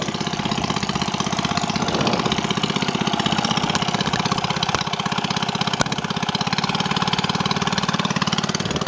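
A ferry boat's engine runs steadily during a river crossing in Laos near Pakse. It is a loud, continuous, evenly pulsing mid-pitched drone with no talking.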